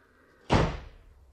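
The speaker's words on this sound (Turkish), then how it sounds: "çıkarken kapıyı kapat" A door swings shut with a single solid, close thud that rings briefly before fading, set within a police mystery radio drama.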